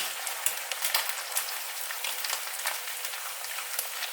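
Eggs fry in a stainless steel pan with a dense, steady sizzle dotted with sharp little pops and crackles, close and continuous, with no voices.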